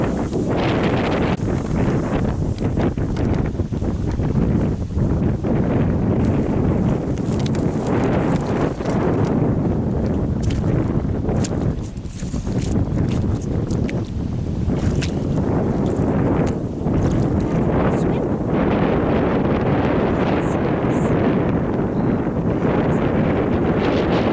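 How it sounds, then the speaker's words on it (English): Strong wind roars across the microphone throughout, a loud, steady rushing with gusty buffeting and occasional knocks. "It's windy today."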